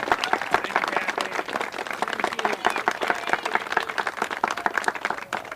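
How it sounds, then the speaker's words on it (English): Sustained applause from a crowd at a tornado commemoration and day of recognition, honoring a city director: dense, steady clapping that carries evenly throughout with no talk over it. "Ladies and gentlemen, let's give Director Peck another round of applause."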